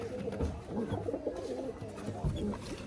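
Pigeons on a farm with young squabs, cooing in low repeated throaty calls, several birds overlapping close by in a continuous murmur.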